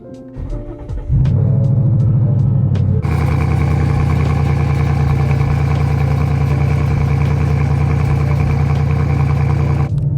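After a few clicks, a Mustang GT engine with a new X-pipe and electric exhaust cutouts open starts and idles loudly with a harsh, raspy exhaust drone that stays steady and close.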